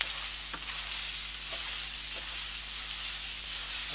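Pork and vegetables stir-fry in a pot with oyster sauce, giving a strong, continuous hissing sizzle close by, with a few faint clicks of a utensil against the pot.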